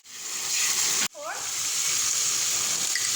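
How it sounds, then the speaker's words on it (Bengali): Ginger, garlic and green chilli paste hits hot oil in a pan, giving a loud, steady sizzle that cuts out briefly and then resumes, frying continuously with no talking. "জিঞ্জার গার্লিক আর 2টো কাঁচা লঙ্কা পেস্ট করে নিতে হবে, পুরোটাই দিয়ে দেবো। এটাও ভাজা হবে যতক্ষণ না র স্মেলটা।"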